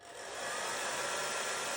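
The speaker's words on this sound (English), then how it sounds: "So that's bone dry now, use my hairdryer." Hair dryer blowing on watercolour paint, a steady loud whooshing motor roar that ramps up over the first half second and then holds constant.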